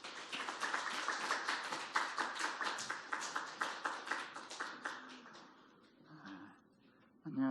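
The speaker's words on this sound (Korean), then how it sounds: "이 마음을 담아서 우리 박수하면서 목사님 맞이하겠습니다" A church congregation applauding to welcome the pastor at a Sunday service, rhythmic clapping in unison that gradually fades out, followed by a brief pause and faint rustling.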